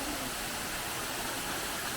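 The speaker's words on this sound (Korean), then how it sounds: "인공 폭포 물 앞으로 해서 이렇게" Artificial waterfall beside a Buddhist temple in the jungle outside Chiang Mai, where Thai, Myanmar and Hindu styles mix, giving a steady, dense rush of falling water that stays even and close for the whole stretch.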